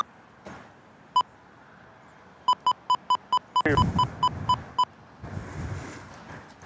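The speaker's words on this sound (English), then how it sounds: "Sorry, you're gonna hear some beeps here." Sharp electronic beeps at an airport plane-spotting spot: a single beep, then a rapid regular run of about nine, clear against quiet background with a burst of noise midway.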